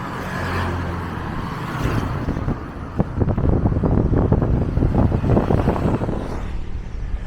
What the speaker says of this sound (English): It's starting to get really windy now.